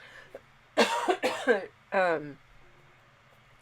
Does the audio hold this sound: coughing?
yes